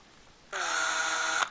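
A power drill rigged as a small lathe for turning parts of a 1:72 Airfix Mitsubishi A6M2b Zero model spins up after a quiet start, holding a steady close whine for about a second before cutting off.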